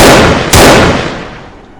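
Single loud gunshot, a sharp close blast with a long decaying echo, heard alone in a true-crime account of a shooting at a rural farmhouse gate.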